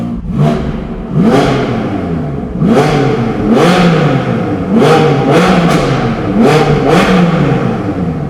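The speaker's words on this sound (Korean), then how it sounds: "그 수평대양 박서 엔진의 느낌보다는 배기 소리의 임팩트가 더 커요" An engine revs repeatedly in loud, rising bursts, its exhaust roaring up and dropping back between each rev, close by and with no talking.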